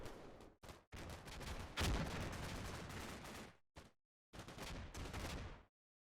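Gunfire in Combat Mission: Black Sea as a Stryker brigade trades fire, faint clipped bursts of rattling shots separated by abrupt silences.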